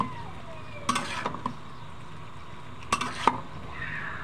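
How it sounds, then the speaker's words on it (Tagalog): Kinamatisang baboy, pork cooked with tomatoes, being stirred in a pan: two clusters of spoon-on-pan scrapes and clinks over a soft steady sizzle, no voices. "Mix natin ng konti"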